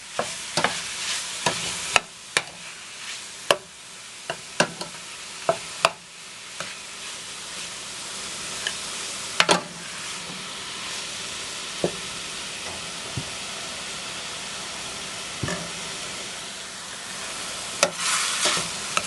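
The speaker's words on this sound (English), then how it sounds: "You want to get this nice and browned off, a little seared on it" Ground beef browning in a pan for shepherd's pie, a steady sizzle with repeated sharp scrapes and taps of a utensil breaking up the meat, fairly close and prominent.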